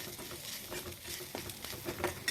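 Whole spices—cinnamon, star anise, black pepper and cloves—dry roasting and being stirred in a pan, giving a soft, steady patter and scraping of loose spices, faint and close.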